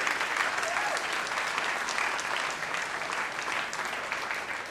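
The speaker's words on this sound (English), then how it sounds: "how about one more big round of applause for Ashton" A hall audience at a Sydney tech livestream event applauds Ashton, a dense, steady wash of clapping that holds at full strength throughout.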